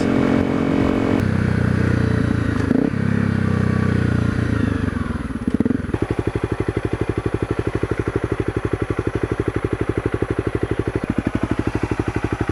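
A dirt bike engine with red silicone radiator hoses and Engine Ice coolant, warming up: a loud, rough running sound first, then a close, steady idle with rapid, even thumping pulses and no voices.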